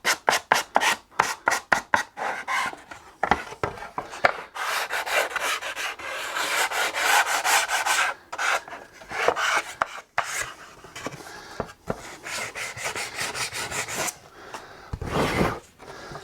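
Sandpaper rubbing a chamfer onto the underside edge of a wooden guitar top, with steady back-and-forth rasping strokes, first quick and choppy, then longer and smoother, close up with no talking.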